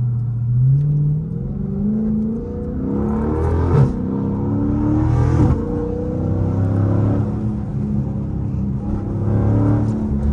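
A Dodge Scat Pack with the 392 engine accelerates hard, its deep exhaust rising through the gears in a loud, close, continuous roar with repeated pitch climbs.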